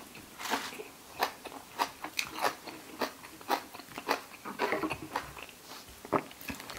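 Crunchy pig ear dipped in a spicy sauce is bitten and chewed close to the mic, a series of sharp crunches and crackles spread irregularly over several seconds, with no talking.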